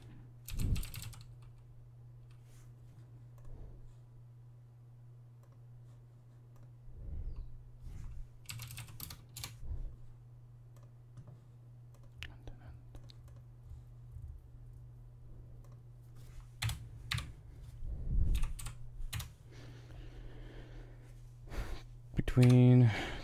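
Keys clatter on a computer keyboard in irregular bursts of typing, close and fairly loud, with brief pauses and a person speaking at points.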